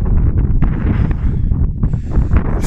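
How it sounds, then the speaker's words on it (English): Strong wind roars steadily outdoors at a winter wild camp in sub-zero cold, a continuous loud buffeting rush across the microphone with gusty swells and no voices. "Wind's picking up quite a bit now as well."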